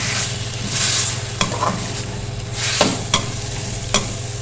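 Chopped tomatoes being stirred into fried onions in a hot pan, with steady sizzling and a few sharp spoon scrapes and clacks against the metal, close and alone.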